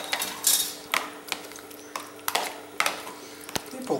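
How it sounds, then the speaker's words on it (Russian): A spoon stirs curd salad with pineapple and honey in a small bowl, giving several light clinks and scrapes spread across a few seconds under faint background noise. "Дальше перемешиваем."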